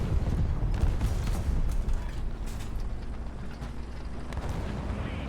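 Tank ammunition cooking off inside a destroyed American T34 in a video game, a dense continuous rumble of bursts and crackling explosions at close range, sustained loud throughout with no pauses.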